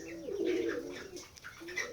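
Pigeons coo softly in low, throaty rolling calls, fairly close, with faint chirps and background murmur.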